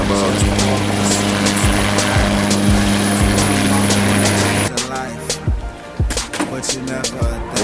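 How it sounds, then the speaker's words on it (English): Helicopter arriving to drop off supplies at a house, loud close rotor chop with a rhythmic thudding beat that cuts off partway, followed by irregular bumps, wind buffeting and voices. "the helicopter comes in and drops off my stuff right at my door"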